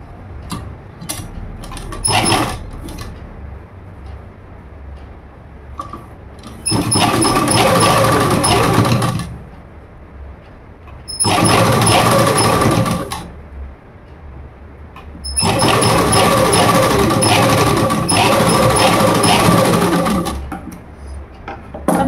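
A sewing machine stitches fabric in three sustained runs of rapid mechanical whirring, with quiet pauses and small handling clicks between them.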